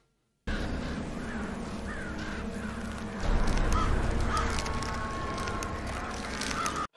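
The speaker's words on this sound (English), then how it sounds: "The crows are here." Crows cawing in a scene from the Game of Thrones episode 'Oathkeeper', several harsh repeated caws over a low rumbling background that swells partway through, fairly close and continuous until an abrupt cutoff.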